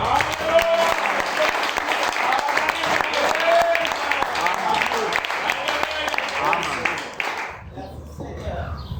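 A church congregation at a Sunday service bursts into sustained, dense applause with voices mixed into the crowd noise, holding loud for several seconds before dropping off abruptly near the end.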